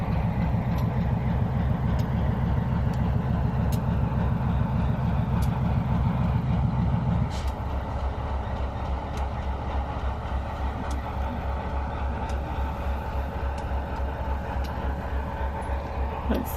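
A tourist rail car near Bennett Lake on the Canadian side of the route from Skagway rumbles along with a steady low engine drone and a louder pulsing throb that drops away partway, under a continuous hum of the ride.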